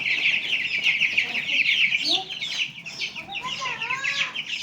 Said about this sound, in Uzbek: Andijon qoratog'larining jo'jalari